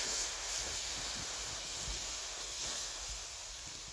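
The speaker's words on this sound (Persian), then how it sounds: "با آبی که مونده واسمون میخوام آتیشو خاموش کنم" A campfire being put out with leftover water gives off a steady, close broadband hiss of steam that holds for several seconds, slowly easing toward the end.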